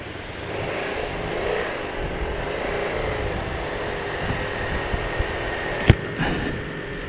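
A Husqvarna motorcycle revs and rides off, a steady mid-pitched engine drone with a few sharp blips and a loud knock near the end, no talk.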